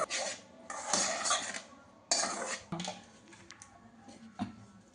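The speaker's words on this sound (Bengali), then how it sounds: "আমি এবার এটা সবটা মিক্স করছি" Sugar, flour and baking soda being stirred together for a cake batter, a spoon scraping and clinking against a bowl in uneven bursts of gritty rubbing with occasional sharper taps.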